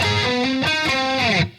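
Distorted electric guitar plays the second bar of a rhythm riff, a short run of sustained, gritty notes with a slight chorus-like sheen, loud and alone before cutting off.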